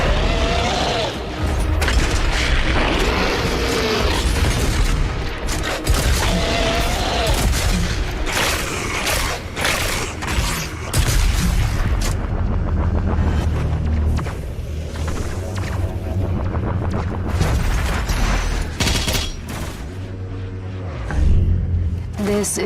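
Turret gunfire and explosions from Doom Eternal: a dense, continuous barrage of booming blasts and rapid shots roars throughout, with deep rumbling impacts layered over heavy game noise.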